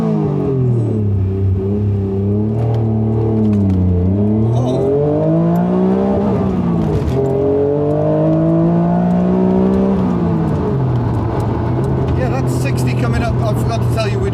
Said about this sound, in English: I am going to try and see what the acceleration's all about